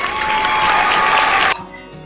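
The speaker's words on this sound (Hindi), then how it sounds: "और तालियों से स्वागत करते हैं।" At a banana eating challenge, the audience applauds the winner with loud, dense clapping that drops off sharply, leaving only a faint trailing murmur.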